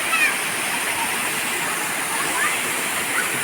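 A village waterfall pours in a steady, close, continuous rushing roar that holds an even level throughout, with no breaks.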